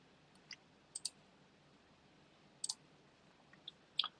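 A computer mouse clicks while someone works in Power Apps: a few sharp, faint clicks, several in quick pairs, spread over a few seconds against quiet room hiss, with no voice.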